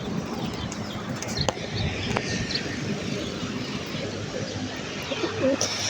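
Soft pigeon coos and a few wing flutters sit over a constant low background rumble, close but fairly quiet.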